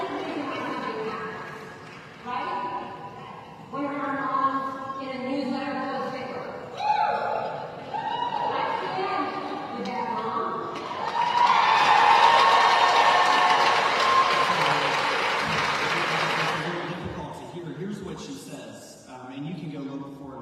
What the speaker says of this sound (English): that's when you heard the raucous applause from the other Moms for Liberty in the crowd